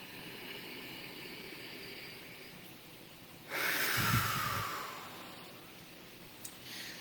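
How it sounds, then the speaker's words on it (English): One deep breath drawn in and then blown out hard in a single forceful, close, breathy exhale during a guided breathing exercise, with quiet room tone around it. "Breathe in as deeply as you can and then blow it out hard."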